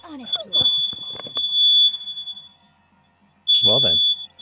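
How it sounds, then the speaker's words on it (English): A steady high-pitched alarm tone, most likely a smoke or fire alarm, beeps several times in the background while people talk loudly over it. "that sounds like a fire alarm"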